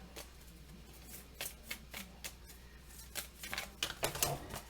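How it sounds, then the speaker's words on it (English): Round tarot cards shuffled by hand produce repeated quick riffling flutters and soft slaps in irregular bursts, close and fairly quiet, growing busier toward the end. "These round cards are hard to shuffle, I will admit."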